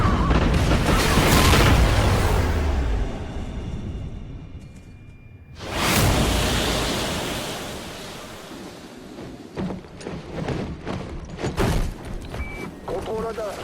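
A space station explodes in the Call of Duty Ghosts video game: a deep whooshing boom bursts midway, preceded by heavy rumbling debris and followed by scattered crackles and pops, while French voices speak over the chaos.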